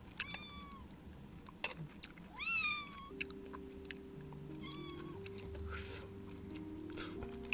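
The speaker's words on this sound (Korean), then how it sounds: "고양이가 생선 냄새를 맡았어." A cat meows a few times, high rising and falling calls standing out near the listener over a low hum of background noise, with some faint chewing-like clicks.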